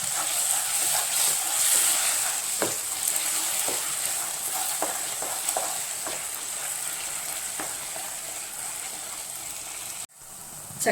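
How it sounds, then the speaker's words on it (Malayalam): Roasted coconut being stirred into thick jackfruit preserve in a hot pan, with a continuous loud sizzle and repeated scraping strokes of the spoon, then a brief break before the noise resumes. "തേങ്ങ നന്നായിട്ട് മൊരിഞ്ഞ് നമുക്ക് ഇതെല്ലാം കൂടെ മിക്സ് ചെയ്യാം"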